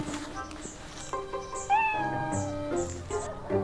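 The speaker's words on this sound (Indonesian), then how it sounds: "Eh, ada kucing lah." A cat meows several times in short, clear, fairly close calls, with a voice speaking briefly around them.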